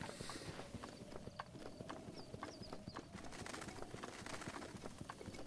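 Horse hooves clip-clopping in The Legend of Zelda: Breath of the Wild, a quick steady rhythm of soft thuds, faint and continuous, with light bird chirps in the background.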